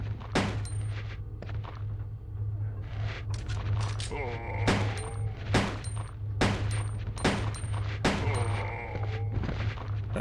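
Rapid bursts of handgun fire from Resident Evil 2 (1998) ring out against zombies as Claire, a run of sharp shots with brief gaps over a steady low game hum and a talking voice.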